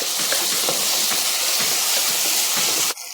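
Onions sizzling in a hot pan with ginger and garlic for a chicken dry gravy, a loud, dense, steady hiss that cuts off briefly near the end.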